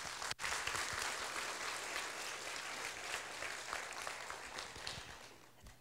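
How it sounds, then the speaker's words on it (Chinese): Sustained audience applause in a lecture hall, welcoming an official to the stage at a public science talk on astronomy; steady dense clapping from a large crowd, fairly even throughout and tapering slightly at the end. "各位观众，请以热烈的掌声欢迎科技部国际事务及科学发展中心主任袁孝"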